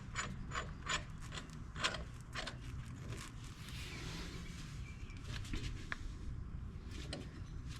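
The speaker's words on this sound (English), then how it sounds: "I'm going to screw this piece out until it sets against the ears." A brake caliper piston-compressing tool is screwed out by hand during a Jeep JK brake pad job, a faint rhythmic metallic rasping and clicking of turning threads with no speech.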